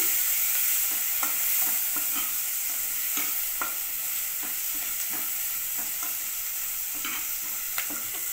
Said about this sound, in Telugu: ఆనియన్స్ ఇంకా పచ్చిమిర్చి రెండు కలిపి ఫ్రై చేసుకుంటున్నాను